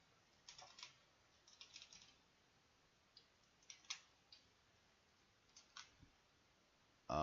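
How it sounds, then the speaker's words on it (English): Sparse, irregular clicks of keys pressed on a computer keyboard in a quiet room, arriving in small bursts with pauses between them, with no one talking. "why is my keyboard not working?"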